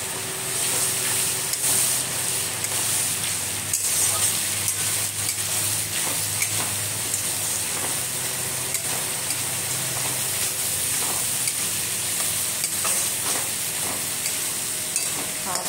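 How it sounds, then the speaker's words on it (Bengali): Onion fries with turmeric and ginger-chili paste in a pan, giving a continuous crackling sizzle with intermittent stirring clicks throughout, close and without talk. "পেঁয়াজটা ভাজা হলে হলুদ আর এটা আদা লঙ্কা পেস্টটা দিয়ে দিলাম।"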